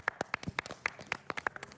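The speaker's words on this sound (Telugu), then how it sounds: "Okay claps." Group hand clapping on a televised reality-show game task, a quick run of sharp claps in uneven bursts, close and fairly loud with no talk.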